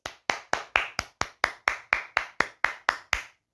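At a football press conference presenting coach Paulo Autuori in Fortaleza, about fourteen crisp claps ring out in a steady, even rhythm, close and isolated, with silence between each one and no talking.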